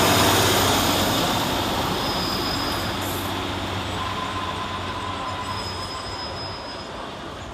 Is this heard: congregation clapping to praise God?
no